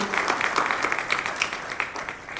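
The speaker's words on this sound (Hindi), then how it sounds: "इनके जोरदार तालियों से हम स्वागत करते हैं" An audience at an educators' award ceremony in India claps to welcome a Congress committee official, a fairly loud, continuous patter of many hands that fades slightly toward the end.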